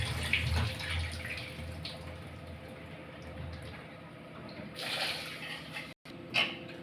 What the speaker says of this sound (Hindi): वाटर से वॉश करेंगे।